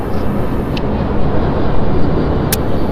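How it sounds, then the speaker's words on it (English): A fixed-wing airplane approaches over a harbour port where cruise ships are departing, a loud steady broadband roar filling the whole stretch without a break, no speech. "Sounds like we've got a plane coming in."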